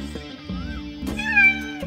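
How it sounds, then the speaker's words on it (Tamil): A pet cat, kept as a companion for a dog, meows a few times with drawn-out, slightly warbling cries, close and clear, over a quiet background with light thuds. "ஓ கேட்."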